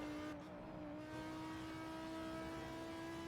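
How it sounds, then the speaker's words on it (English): A race car's engine revving on a Nordschleife lap, holding a steady high-pitched drone with a brief dip and rise during the downshift, loud and continuous without talk. "I'm pretty sure I downshift. Yeah, there is a downshift."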